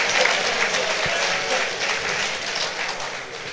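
A crowd applauds at a Zenith Bank annual general meeting, loud sustained clapping from many people filling the whole clip and fading slightly toward the end.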